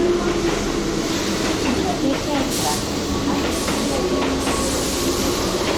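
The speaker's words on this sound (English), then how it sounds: "Oh, that's our train there." A train pulls into a station in Kyoto, a steady rumbling roar with hissing, heard amid station ambience and nearby chatter.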